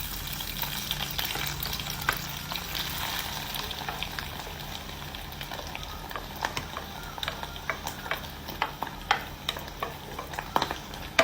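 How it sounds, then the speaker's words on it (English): Anchovies fry and sizzle in a pan with oil for idi sambal, a steady crackle broken by scraping stir strokes and clinks of a utensil, louder and more frequent toward the end; no talking. "Next நெத்திலி goreng பண்ணுவோம்."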